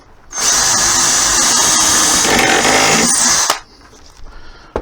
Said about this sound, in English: I'll drill through the hole I've made in this.